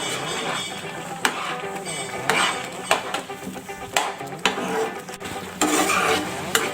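A spoon stirs rava laddu mixture in a pan over a high flame, giving repeated scraping strokes and metallic clinks with a faint sizzle underneath, close and fairly loud.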